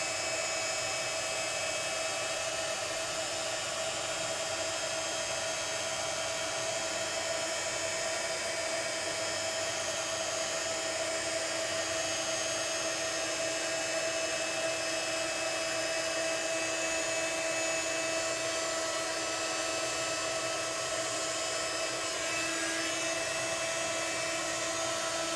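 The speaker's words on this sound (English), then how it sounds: "I'm just moving the heat gun over the image like so." Heat gun blowing steadily over a stamped card image to melt embossing powder, a continuous airy whine at close range holding level throughout with no voices.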